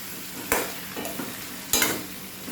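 White lemon pickle stirred in a pan, with a few distinct scraping strokes of a spoon against the metal over a faint, steady sizzle, the last stroke the loudest.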